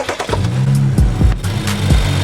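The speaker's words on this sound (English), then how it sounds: "What you want to do is start up the car." A BMW N55 car engine cranks and catches, with sharp low thumps of the starter near the 1-second and 2-second marks and a steady idle rumble throughout; close and loud, no talking.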